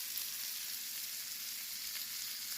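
Bacon frying in a pan makes a steady, soft sizzle with a fine crackle, constant and fairly quiet across the whole stretch, with no voices over it.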